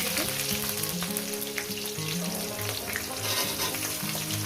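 Chopped onion frying in a pan after a cumin tempering, a continuous close sizzle with soft stirring sounds, no voices.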